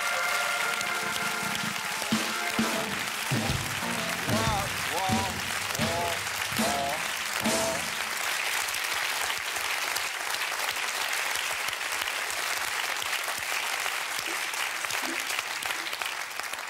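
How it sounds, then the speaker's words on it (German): A television talk-show studio audience bursts into long, loud applause, a dense roaring wash of many hands that runs throughout, with cheering voices and musical tones rising through the first half before the clapping carries on alone. "Und das wäre die Stelle, an der Ihr Applaus jetzt eintritt."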